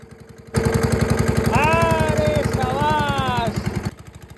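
A fishing boat's engine on a river chugs in a fast, steady pulse, loud and close, while a voice rises over it midway before the engine note fades near the end.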